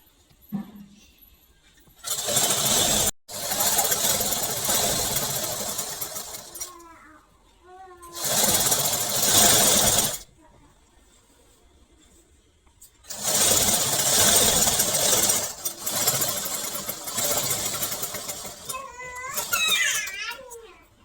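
A sewing machine runs in several bursts of rapid stitching while hemming the elastic fold on a pair of baby trousers, with quiet pauses between runs and brief voices in the gaps.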